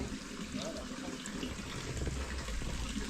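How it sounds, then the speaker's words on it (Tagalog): Steady running water trickles and splashes close by as it drips from a homemade alcohol still, a continuous liquid patter with no voices. "Pero may tubig na rin po napatak."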